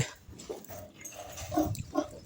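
Pigs on a farm grunt and snort in a few short, close bursts over a low background murmur.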